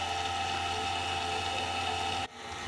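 A stand mixer with a dough hook kneads cinnamon roll dough, giving a steady, loud mechanical whir and hum that runs unbroken before briefly dipping near the end.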